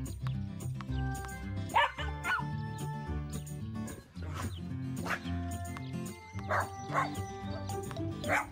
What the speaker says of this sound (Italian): Il nostro cucciolo corre, corre, corre dietro alla palla.